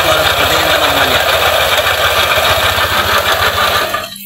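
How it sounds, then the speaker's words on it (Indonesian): A Yamaha Aerox scooter engine runs with a rough noise, a loud, close, steady idle with a fast, regular mechanical pulsing that cuts off abruptly at the end. "Aerox ini memiliki suara kasar di bagian sini teman-teman ya."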